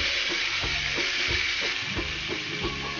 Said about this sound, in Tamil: இதில் கொஞ்சமாக கருகப்பிலை போட்டுக்கலாம்.